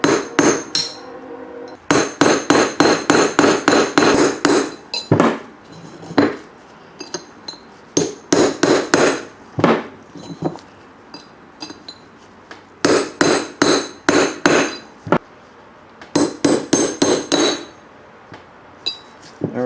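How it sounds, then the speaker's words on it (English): A hammer drives a chisel against a front wheel bearing race in the hub of a Mercedes W123. Loud, close, ringing metal strikes come in rapid bursts of about eight to ten blows, separated by brief pauses. "This smaller race is a little bit more difficult to get out with the punch, so I'm going to use a chisel to get it started"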